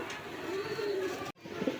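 A pigeon cooing in a show cage, one low drawn-out coo close by, a short break, then a softer trailing coo at the end.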